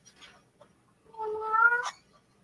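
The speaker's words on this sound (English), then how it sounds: "Oh, you guys are going to hear the cats now." A house cat meows once in a single drawn-out, rising-then-falling call, fairly close and clear over a quiet workshop background, with faint small noises just before it.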